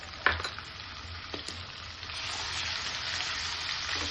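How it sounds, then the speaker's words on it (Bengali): Ginger-garlic paste frying with onions in a pan: a couple of sharp clatters, then a loud, steady sizzle that builds and holds, close up with no talking. "এটা একটু ভেজে নেব,"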